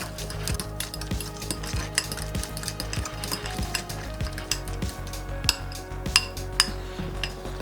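A few drops of hickory liquid smoke and Dijon mustard are briskly stirred together in a bowl, with close, rapid scraping strokes and light clinks of a utensil against the dish, steady throughout and without talk.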